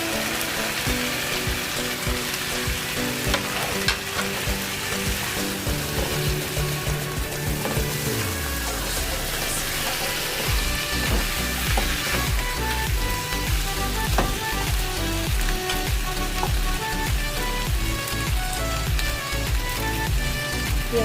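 Pork ribs fry in a pan with a continuous, close sizzle and crackle alongside some clinking and scraping, with no talking.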